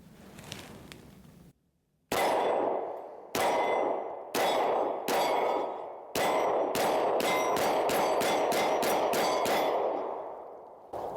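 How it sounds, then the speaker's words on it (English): A Taurus GX2 pistol fires about fourteen sharp, loud, close shots after a brief pause, spaced at first and then coming in a quicker, rapid string. "Now, let me put these 14 rounds through it."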